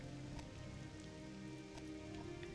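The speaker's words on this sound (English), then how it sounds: "it's raining" Steady rain falls in the city of Balmora in the video game Morrowind, a soft even patter with scattered droplet ticks, faint and continuous with no talking.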